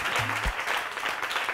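Studio audience at a French-language evening television show applauding, a brief dense burst of clapping that fills the moment, with a short tonal sound and a thump near the start.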